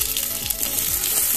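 Chicken pieces hitting a little spread oil in a pan for Bolivian golden chicken, a loud close sizzle with a couple of low thuds, steady and unbroken, no one talking.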